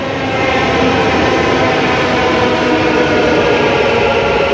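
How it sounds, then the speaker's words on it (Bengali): A Green Line metro train pulls into a Bangalore station with a steady, loud rumble and rolling wheel noise that carries on without a break. "এই যে ট্রেন আসছে"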